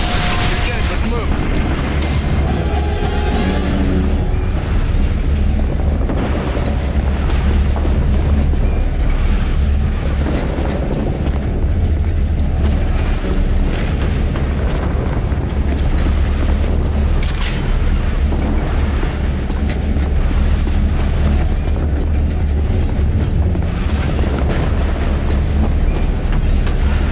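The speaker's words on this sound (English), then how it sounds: "Bombardment now! Fire support incoming!" Heavy artillery bombardment in the video game The Bureau: XCOM Declassified, a loud, continuous rumbling barrage of booming explosions that rolls on without pause, with voices heard in the mix.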